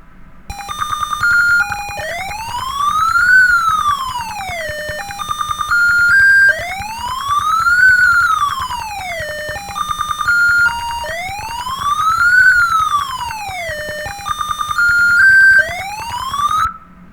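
An electronic police-mode siren from an LED light coding project wails loudly, each rising and falling sweep repeating about every four and a half seconds with short steady tones in between, and no speech over it.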